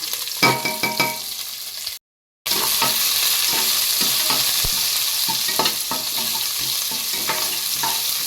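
Onion, garlic, dried red chili and curry leaves sauté in hot oil with a loud, dense sizzle and rapid scraping stirs close by, broken by one short gap of silence, with no voices.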